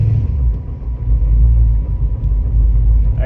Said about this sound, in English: I'm off for my first test drive.